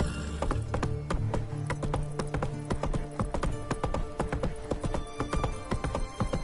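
Horse hooves from The Witcher 3 pound in a fast, steady galloping rhythm, loud and close, with a brief whinny-like tone early on.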